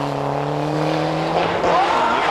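Raymond Mason's Ford Sierra rally car is driven hard on a forest stage during the 1998 Toshiba Rally, its engine howling at a rising pitch close by with a brief rushing surge of tyre and gravel noise.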